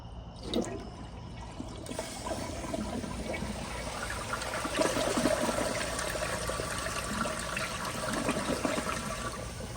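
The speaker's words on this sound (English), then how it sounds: "here's a flush with the handle held down" A 2004 Kohler Highline Ingenium toilet flushes with its handle held down. A sharp click comes first, then a rushing, gurgling surge of water that swells and keeps churning steadily to the end, close by with no talking.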